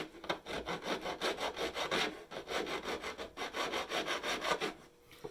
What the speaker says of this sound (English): And file those burrs off.